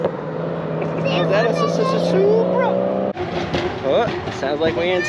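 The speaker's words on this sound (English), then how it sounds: "sounds like we're in time for the two-step." Car engine two-step revving at a car event, a loud droning engine with rising and falling pitch under continuous crowd noise and talk, briefly cut off and then resuming with rapid revving bursts.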